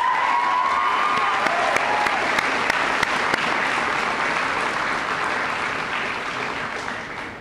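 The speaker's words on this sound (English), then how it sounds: "I'd like for all the graduates right now to acknowledge their parents with a round of applause" Sustained applause from graduates and families at a Ridley College 2011 upper school graduation ceremony, a dense, steady wash of many hands clapping throughout, with faint whistles early on, slowly easing toward the end.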